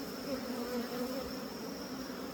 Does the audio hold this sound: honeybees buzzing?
yes